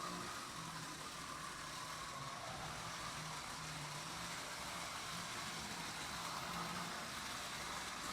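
A reconditioned postwar Lionel 027 gauge MKT switcher train set runs on an 80-by-48-inch layout, giving a steady, continuous motor whir and track rumble that holds evenly throughout without pause.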